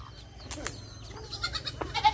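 Goats in a farm pen, including grown animals that have recently kidded, let out a few faint, scattered bleats over a low steady background hum.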